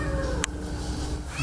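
An abandoned cat left shut inside an apartment lets out a plaintive, drawn-out meow, fairly close and clear, with a brief sharp click partway through.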